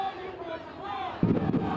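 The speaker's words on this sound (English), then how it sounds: "the Sons of Ben, Union's diehard fans, chanted from the moment they walked in" Diehard Philadelphia Union soccer supporters chant in a dense crowd roar, a steady mass of voices with a louder surge near the end.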